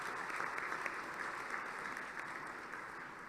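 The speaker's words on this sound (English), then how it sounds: "Let us all applaud the efforts of those who work to achieve it." Audience applause at a centenary celebration, a soft, even patter of many hands heard from a distance, faint and steady with no voices on top.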